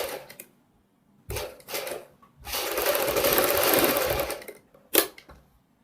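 A sewing machine stitches potli buttons onto a kurti neckline in short bursts, then runs in one longer steady stretch before a final quick jab, all close and clear with no talk.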